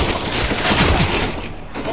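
Gunfire from a competitive shooter video game, a dense burst of shots and thuds layered into a continuous loud clatter of game action.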